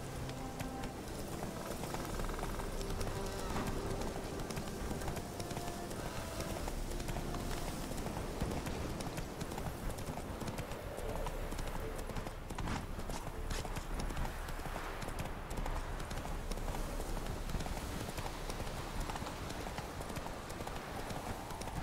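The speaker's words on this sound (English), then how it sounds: "Run, Roach" Horse galloping in The Witcher 3 video game, steady clip-clop hoofbeats running continuously under dense game music and ambience, with brief voices.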